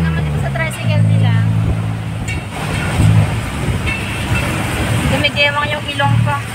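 A tuk-tuk tricycle rides through Bangkok traffic with a steady engine drone and road rumble. People talk loudly over the noise throughout.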